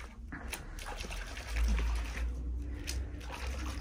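Raw alpaca wool being washed as water trickles and splashes nearby, a soft continuous liquid sound with a brief louder gush midway.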